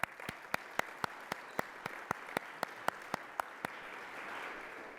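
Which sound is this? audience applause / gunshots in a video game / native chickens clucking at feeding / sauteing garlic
audience applause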